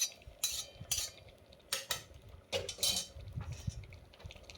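A utensil scrapes and clinks against a pan while egg khichuri is stirred, making several short, quiet, irregular scrapes over a faint background of cooking.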